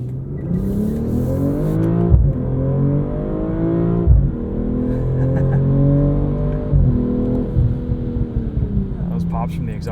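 A 2022 BMW M440i xDrive Gran Coupe accelerates hard from 0 to 60, its engine rising in pitch through several quick upshifts of the 8-speed with brief dips between gears, loud and close from inside the cabin.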